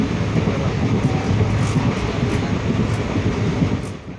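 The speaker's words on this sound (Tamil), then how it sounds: "ஸோ திருச்சி பொன்மலை ரயில்வே ஸ்டேஷனை தாண்டி ட்ரெயின் போய்கிட்டுருக்கு." A passenger train runs past Ponmalai railway station in Tiruchirappalli, India, giving a steady, loud rumble of wheels on the rails that holds without a break throughout.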